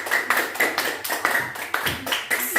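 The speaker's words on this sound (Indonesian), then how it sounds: "Beri tepuk tangan buat Rasti." A classroom of students claps in unison for a classmate, producing a quick rhythmic series of loud, close hand claps with no talk over them.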